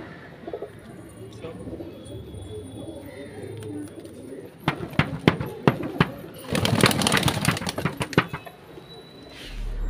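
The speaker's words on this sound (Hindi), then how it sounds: "एक नंबर क्वालिटी वाले कबूतर हैं सब" Kaldume pigeons coo softly against outdoor background noise, then a burst of wing flaps and fluttering rises loudly before settling.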